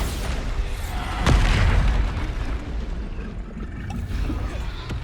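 Bombarda spell explosion in Hogwarts Legacy, a single deep booming burst with a falling rumble, loud and close, amid ongoing game ambience.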